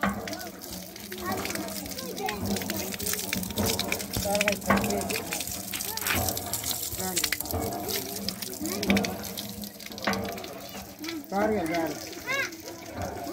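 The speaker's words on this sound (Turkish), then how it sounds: "El pompası." Water gushes and splashes from a hand pump at a drinking-water facility, a steady rushing pour that surges and eases throughout, heard under ongoing nearby talk.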